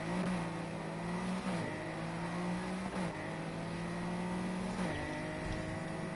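Race car engines drone and rev steadily, pitch dipping at each gear shift, a continuous game-like engine roar with no talking.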